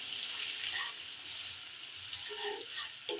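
Ginger, onion and garlic paste with tomato frying in a pan, giving a steady broadband hiss and sizzle throughout, fairly faint, with a few soft stirring scrapes near the end.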